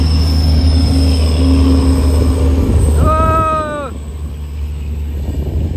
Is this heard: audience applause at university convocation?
no